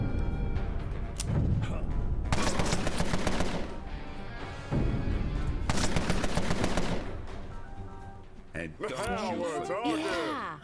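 Gunshots in Empire of Sin, loud rattling volleys of rapid fire in long bursts, with a voice talking underneath and over the shooting.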